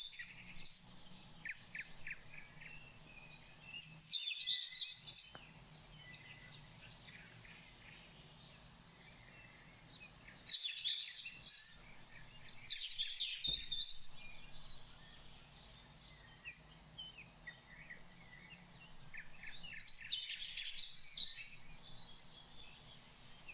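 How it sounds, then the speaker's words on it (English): Birds chirping outdoors in short, faint bursts of high calls separated by quiet gaps, distant and soft over a low steady background hum. "Listening to the birds"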